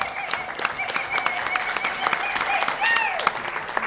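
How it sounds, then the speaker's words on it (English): An audience at an international convention in London applauding the ambassador, a sustained round of clapping that holds through the whole stretch, with a voice speaking over it. "A big clap for the ambassador"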